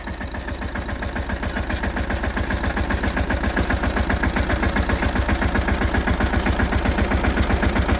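A tractor engine idles close by in a pomegranate orchard, a loud, steady, low pulsing thrum with an even rapid beat that builds slightly in the first second, then holds constant with no voices.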